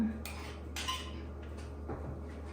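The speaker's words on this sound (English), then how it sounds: "So I'm just gonna take them by just regular little tablespoons. Put them on my cookie sheet." Tablespoons of pumpkin chocolate chip cookie dough go onto a metal cookie sheet with a few light metallic clinks and scrapes of spoon against the pan, close and quiet over a low background hum.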